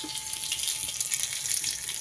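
Cumin and mustard seeds sizzle in hot oil in a pan, a steady, fairly quiet hiss and crackle with soft popping throughout, no voices present.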